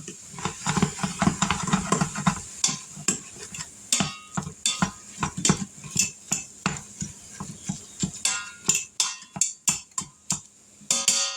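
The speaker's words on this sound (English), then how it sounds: "you want to cook this hamburger meat till it's no longer pink" Utensil scraping and stirring hamburger meat in an Instant Pot, with a steady run of clinks and scrapes over a soft sizzle and hiss, close and fairly loud with no talk.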